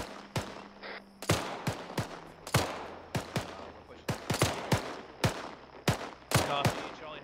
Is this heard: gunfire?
yes